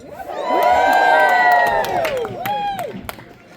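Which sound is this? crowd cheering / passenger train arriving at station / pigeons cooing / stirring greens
crowd cheering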